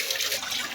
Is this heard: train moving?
no